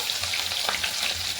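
Green chili hits hot oil in a kitchen frying pan with cumin seed, giving a steady close sizzle and crackle that lasts through a short moment.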